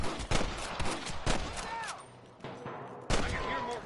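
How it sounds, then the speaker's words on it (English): Sharp gunshots in the Western video game Red Dead Redemption, several loud cracks spaced irregularly amid game ambience, with a brief lull midway before another burst. "I can hear more gunshots"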